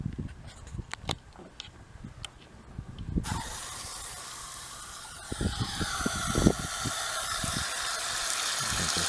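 A spray bottle misting water over radish microgreens, with several short hissing bursts at first and then a longer steady spray, close by with no talking.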